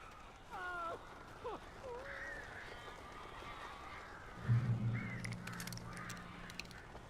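Crows cawing in the Alan Wake (2010) video game, a few harsh calls rising over a steady rain-like ambience, then a low voice speaks at moderate distance while faint clicking follows.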